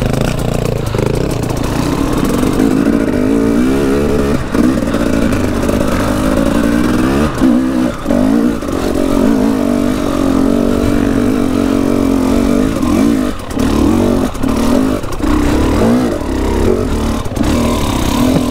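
Enduro motorcycle engine revving hard and close throughout a trail ride, a continuous loud buzz that rises and dips with throttle changes.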